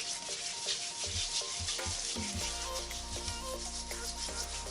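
A homemade salt body scrub is rubbed onto a wet hand, giving a soft, steady gritty scrubbing close by with faint brief taps mixed in, and no talking.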